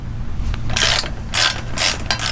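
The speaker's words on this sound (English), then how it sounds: "Now we take out the 15mm bolt." Ratchet wrench clicking as it loosens a 15mm bolt on a Phatmoto Rover 2020 motorbike, three or four close bursts of rapid metallic ratcheting over a low background hum.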